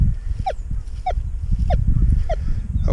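A Deeptech Vista X metal detector in prospecting mode sounds off on a small target: four short, identical beeps about every 0.6 seconds. The beeps are close and clear over a low, steady rumble of background noise.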